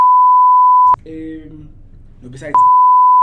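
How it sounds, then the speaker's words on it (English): A steady censor bleep tone runs at full loudness, cuts out while a person speaks briefly, then returns and holds to the end. "I'm gonna need to beep that out"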